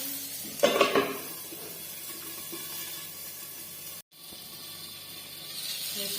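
A metal lid clatters onto a pan of brinjal cooking Maharashtrian style, a brief cluster of clinks near the start, followed by a low, steady kitchen hum.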